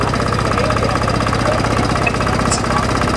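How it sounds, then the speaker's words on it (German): A vintage 1933 tractor engine runs at a steady, loud rhythmic chug close by, a fast even knocking pulse with crowd noise faintly underneath. "Jetzt kommt zu uns der älteste Traktor, ein Baujahr 1933."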